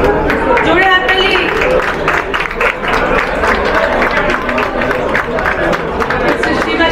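An audience applauds loudly while names are announced at a ceremony. A voice keeps speaking over the dense, continuous clapping.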